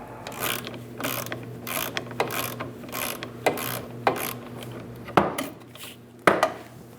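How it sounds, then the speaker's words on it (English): Ratchet socket wrench loosening the driveshaft center support bearing nuts on a 2001-2006 Chevrolet Silverado, a close series of rhythmic clicking ratchet strokes with a few louder metallic clanks near the end, no talking. "we're going to reach up and we're going to remove the two nuts for the support bearing"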